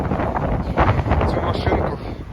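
Strong, freezing winter wind buffets the microphone in rough, roaring bursts, with a muffled voice partly audible beneath the blustering noise.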